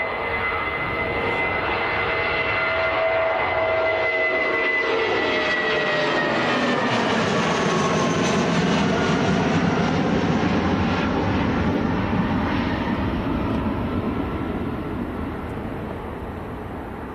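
A British Airways airliner bound for Heathrow passes near Manchester Airport, its jet engine roar rising and falling with a smooth sweep of pitch as it goes by, loud and continuous with no talk.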